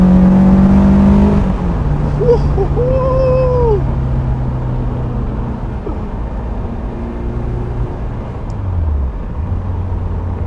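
A Caterham Super Seven 2000 at full throttle, its engine loud and close with a sustained droning note and a shift in pitch partway through, and a few thin whistling tones over the roar.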